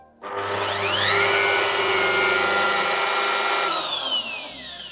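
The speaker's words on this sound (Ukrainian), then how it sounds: "Спочатку я увімкну його на першу швидкість, послухаємо, як він працює." A SKIL handheld wood router switched on at its first speed spins up with a soft start into a loud, steady high whine that holds for several seconds, then begins winding down.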